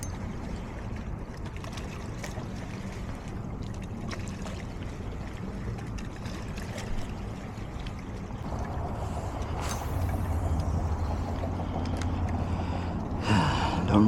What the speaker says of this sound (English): Big waves going on.